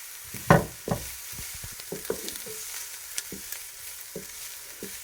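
Shredded cabbage and capsicum sauté briefly in a pan, a soft sizzle under scattered knocks and scrapes of a spatula stirring, with one louder clatter early on.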